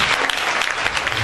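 Church congregation applauding at a thanksgiving celebration service, steady dense clapping from a crowd that fills the whole moment, with no voices standing out.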